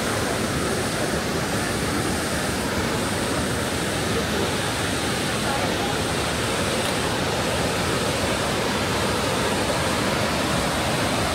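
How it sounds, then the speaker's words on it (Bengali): A roaring waterfall in the Valley of Flowers, fed by the rain-swollen Pushpawati river, gives a dense, continuous rush of white water, loud and unbroken throughout with no pauses. "শুধু ঝর্ণার আওয়াজ পাচ্ছি।"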